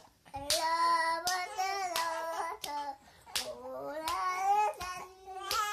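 A child singing for his little brother, clapping his hands in time with the song, sharp separate claps at regular intervals alongside the sung voice.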